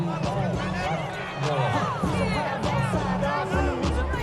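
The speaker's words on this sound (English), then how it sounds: "Well, listen to this crowd" A large stadium crowd roars continuously at a Philadelphia Eagles versus Washington Commanders NFL football game after a record rushing performance, a loud, sustained wash with excited voices and shouts rising throughout.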